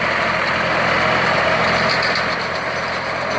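A John Deere 3050 tractor of 50 horsepower runs a John Deere RB310 round baler in a field. It gives a loud, steady engine drone with a continuous mechanical rumble and no break.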